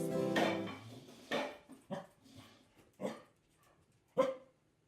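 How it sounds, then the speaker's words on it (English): A dog playing in a water bowl makes splashy, clattering laps and knocks against the bowl, in irregular bursts with short pauses, close by and moderately loud. "That's the sound of Shepherd playing in Benzie's water bowl"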